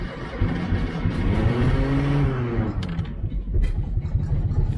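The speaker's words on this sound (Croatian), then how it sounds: "Pokušat ćemo još posljednji put da ga upalimo" An old Zastava Yugo car engine catches and runs, with a steady mid-pitched hum that swells and eases before settling into a rougher idle, close and loud.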